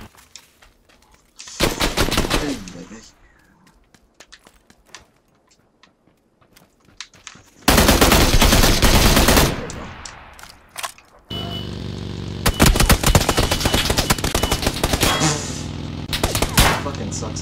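Loud automatic gunfire from the video game PUBG comes in three long bursts: a short spray, a sustained volley and a longer rattling stretch, with quiet gaps between them.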